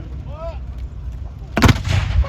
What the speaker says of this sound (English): the guns fired now, they've committed themselves